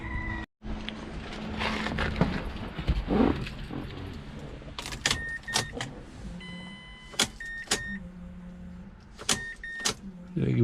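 A 2006-2012 Mazda CX-7 with the 2.3 engine is started and left running after a high-pressure fuel pump replacement. A steady low engine hum carries through, broken by several short, sharp electronic chimes and clicks.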